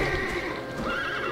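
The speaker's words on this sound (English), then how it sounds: "Riding on my horse." A ridden horse in World of Warcraft gives a dense, continuous burst of neighing and hoof clatter, loud and close throughout a short moment.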